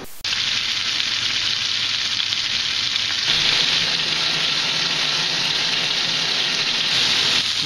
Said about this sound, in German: das Bratgemüse hier noch ein bisschen mitbraten